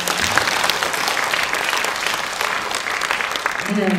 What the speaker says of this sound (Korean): 박수 한번 해주시면